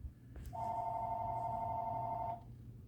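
A telephone rings with a single steady electronic tone lasting about two seconds, loud and clear over a low rumbling background.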